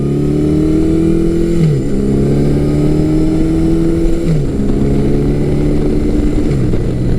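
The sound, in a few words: Yamaha 1100cc four-cylinder motorcycle accelerating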